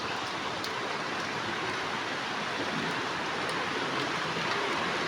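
Steady rain falls just outside a bathroom window, a constant close hiss of even, unbroken noise with no talk over it.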